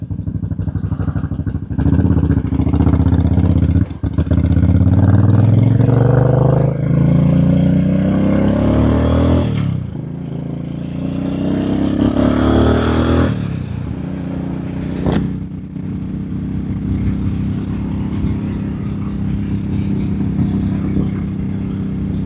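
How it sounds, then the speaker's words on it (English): Heavy street traffic with cars and motorcycles passing close, engines revving and rising in pitch, then fading to a steady rumble, with no talk over it. "Let me see if I can get past all this crazy traffic going on right here."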